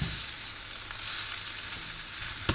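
Mutton fried rice sizzling loudly in a large pan as it is stirred, a continuous close hiss of frying with occasional scrapes of the spoon, and no voices.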